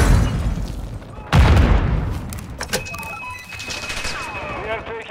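Explosions and gunfire from the video game Call of Duty: Modern Warfare II, with a heavy boom followed by bursts of shots and rattling effects, loud and up close.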